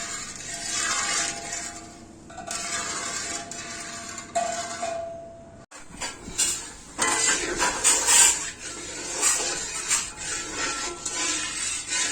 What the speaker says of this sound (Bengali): চুলার আঁচ বাড়িয়ে তারপরে চিনির পানির কড়াইটা আমি চুলায় দিয়ে নাড়ার উপরে রাখছি।